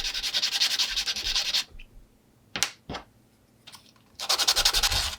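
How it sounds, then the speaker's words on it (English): Sandpaper rubbed back and forth over the uneven edges of small DIY dollhouse pieces, a rapid rhythmic scratching in two bursts, separated by a pause holding a few light knocks and handling taps. "if they're not very even, you can sand them"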